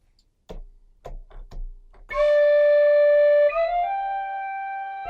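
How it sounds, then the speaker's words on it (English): A few soft taps, then a loud sustained sampled bagpipe drone with a bright reedy tone, shifting pitch once partway through. "whoever enjoys bagpipes, here you have great sounding bagpipes."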